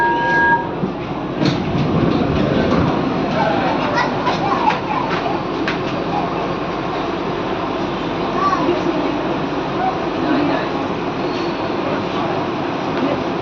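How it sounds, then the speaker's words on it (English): Kuala Lumpur metro rail train at a station, a continuous loud rumble with rhythmic clicking and clattering and scattered crowd noise around it. "We are exploring the Malaysia Kuala Lumpur city by metro rail."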